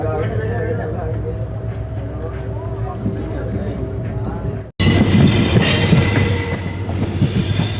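A general-class passenger train on the Bikaner to Kishangarh line pulls into Nokha railway station with a steady, loud rolling rumble and rail clatter. The sound cuts abruptly midway, then resumes denser and busier with wheel noise and faint voices.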